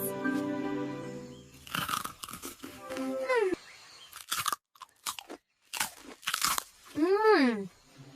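Sharp, crackly crunches from bites into a crisp cookie, several in a row, mixed with bursts of lively, animated voices.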